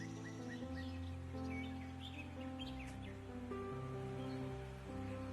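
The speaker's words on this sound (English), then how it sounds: "The white-throated dipper is, Norway's national bird." White-throated dipper, Norway's national bird, gives short high chirps and calls, faint and scattered over a steady bed of soft background music.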